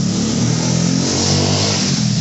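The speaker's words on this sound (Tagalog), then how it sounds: "ang ingay na motor, ang bilis ng takbo niya" A motorcycle engine in the mobile game Minecraft PE roars steadily at close range, a loud continuous revving drone with no talk over it.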